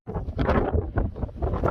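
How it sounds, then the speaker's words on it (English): Gusty wind buffets the microphone on a ferny, pine-floored Appalachian Trail mountain path, a steady loud rumbling roar close up that swells and dips without a break. "It's a wee bit windy."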